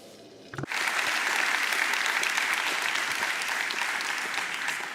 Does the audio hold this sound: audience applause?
yes